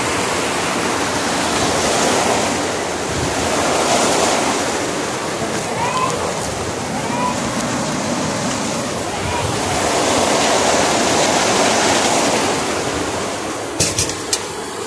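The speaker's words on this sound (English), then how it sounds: "It's raining." Heavy rain pours down outside during flooding, a steady broadband roar of falling water that continues throughout, with brief sharper knocks near the end.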